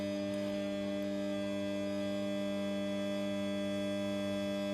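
HID flood lamp humming steadily as it warms up with its lid open, a constant electrical drone with strong tonal overtones, loud and close, with no speech.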